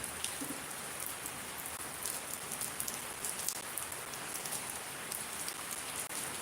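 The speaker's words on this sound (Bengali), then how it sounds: "বৃষ্টি এখন কমে গেছে" Rain in Shariatpur falls steadily on surfaces as a constant, even patter of drops, fairly quiet and with no voices over it throughout.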